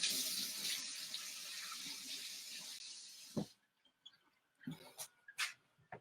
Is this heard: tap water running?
yes